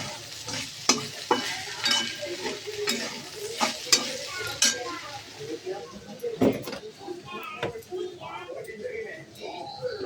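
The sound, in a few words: sautéing dry coconut and spices in a pan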